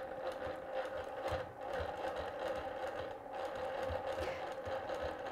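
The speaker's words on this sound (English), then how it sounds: "I need to stitch in the ditch down to my first point." A sewing machine runs steadily while stitching in the ditch on a quilt, its motor humming with a fast, even needle chatter that holds up close for several seconds without any talk.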